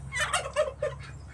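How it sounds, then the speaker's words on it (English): Turkeys being let out of their pen gobble in a quick burst of several rapid, close, rattling calls lasting just over a second. "I'm gonna let these birds out of here before they start cussing at me."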